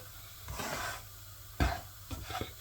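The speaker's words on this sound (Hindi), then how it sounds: "इस तरह आहिस्ता आहिस्ता से चम्मच हिलाते जाना है" A spoon stirs semolina roasting in a pan, giving a soft dry scraping with short sizzling strokes and one sharper scrape in the middle. It is close and fairly quiet, with no talk.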